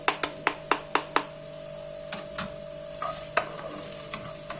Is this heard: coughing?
no